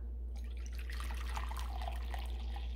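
Hot water runs steadily into a dye pot that already holds apple cider vinegar, making a continuous close splashing pour with faint drips and no talk.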